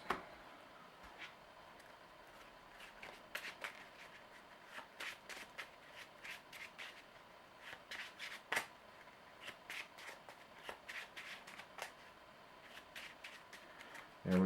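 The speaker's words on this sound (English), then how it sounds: "And we'll draw 6 new cards." Cards being drawn and handled during a Marvel Legendary game, a quiet series of irregular papery flicks and slides across the table, with faint talk in the background.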